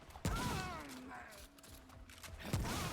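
Two heavy, booming shotgun blasts ring out in Remnant: From the Ashes, one near the start and one near the end, with a brief mechanical rattle between them.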